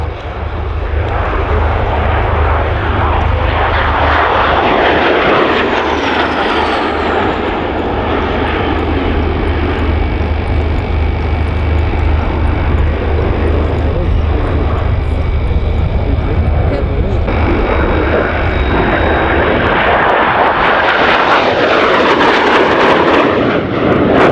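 A Gloster Meteor jet roars past during its flying display at the 2006 Leuchars Airshow, a loud sustained turbine rush that swells and fades over the crowd, with crowd noise and distant voices mixed underneath.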